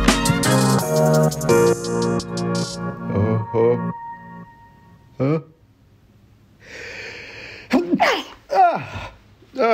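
A person sneezes once, loudly and up close, amid stretches of musical jingle and breathy gasping in a German-language podcast recording, with talk following.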